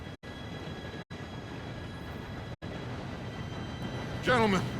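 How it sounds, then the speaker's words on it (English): A train rumbles in toward the stop in the video game Red Dead Redemption. The steady, loud, broad roar is broken by brief dropouts, and a rising metallic wheel squeal comes at the end. "Train should be here any minute now."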